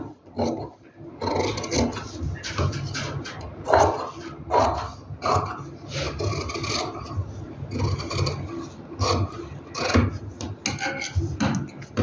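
Scissors snip through stitched fabric at a neckline, giving a run of rough, rasping cuts in uneven bursts, close and fairly loud, with no talking.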